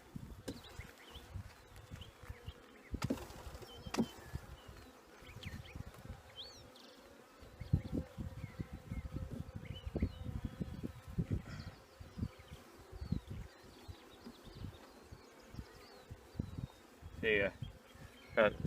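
Honeybees from a nuc being installed into an eight-frame beehive keep up a constant close buzzing hum, with individual bees droning past and a few soft bumps and handling knocks around the box.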